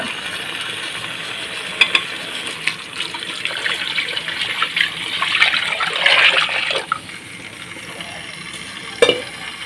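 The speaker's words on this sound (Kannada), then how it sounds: "ಈಗ ಇದಕ್ಕೆ ನಾವು ನೀರು ಹಾಕ್ಕೊಳ್ಳೋಣ." Water pours and splashes into a hot pan of cooked-down tomatoes, with sizzling and stirring scrapes throughout, and a couple of sharp clinks near the start and end.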